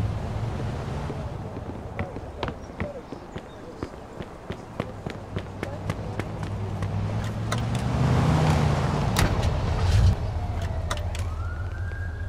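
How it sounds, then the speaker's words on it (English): A car cruising in the Mafia II video game, its engine giving a steady low rumble with scattered sharp clicks, while a siren-like wail rises in the distance toward the end. "Let's take my car."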